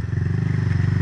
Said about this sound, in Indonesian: empezó el motor